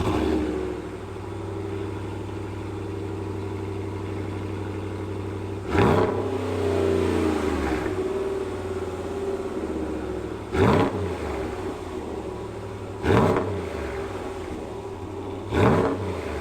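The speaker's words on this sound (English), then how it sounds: "Let's get this guy in maximum mode and see what the truck does with the Corsa system." A Ram Rebel pickup fitted with a Corsa Sport catback exhaust idles with a steady deep rumble, then revs sharply four times, each blip rising and falling quickly, loud and close.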